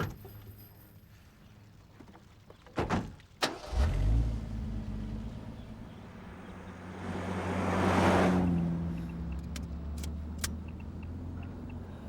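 A truck door slams and the engine turns over and starts, then the vehicle revs and swells past, loudest near the middle before fading away into a low rumble.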